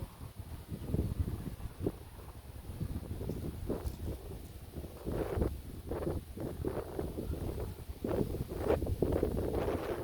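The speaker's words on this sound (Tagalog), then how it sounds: "ala kakusog na sa hangin tugnaw nakaayo." Strong wind roars and buffets the microphone in continuous gusts, a rough, rumbling blast with no voices.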